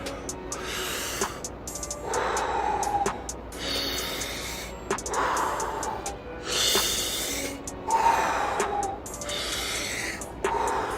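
Slow, deep breaths drawn in and pushed out in a steady rhythm, each one a long airy hiss lasting about a second or two, close and clear, with no talk over them.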